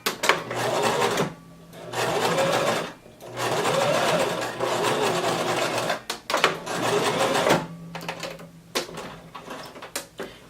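A sewing machine runs a straight stitch and back stitch closing a seam on an off-the-shoulder maxi dress, in several loud close bursts of rapid stitching separated by short pauses.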